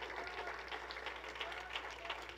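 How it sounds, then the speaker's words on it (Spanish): Congregation applause for God during a church service, a brief, faint, continuous patter of clapping heard from a distance. "¿Alguien le quiere dar un aplauso al Señor nuestro Dios?"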